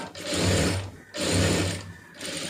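A sewing machine stitches a saree fall in two close, steady runs of rapid mechanical clatter separated by a brief pause, with no talk.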